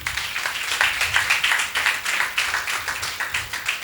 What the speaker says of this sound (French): Aidez-moi à recevoir avec des applaudissements bien nourris Madame Estelle Aïhoud Demessi